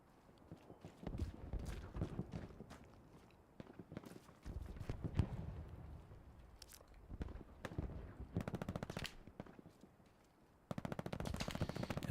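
Machine gun fire in the video game Battlegrounds comes in repeated rapid bursts of loud shots, separated by short gaps, with a dense final burst near the end and faint background game noise between bursts.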